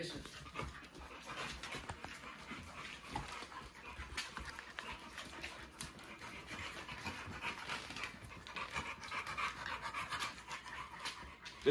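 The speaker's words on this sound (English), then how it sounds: "The Blue Dogs fight in the living room." Dogs pant rapidly and scuffle close by, with occasional soft whimpers and yips amid the shuffling of play.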